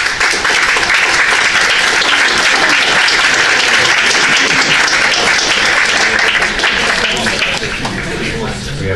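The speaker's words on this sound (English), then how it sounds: "We can clap again." A room at a college board of trustees meeting breaks into sustained, loud applause, dense clapping that continues steadily with some voices mixed in.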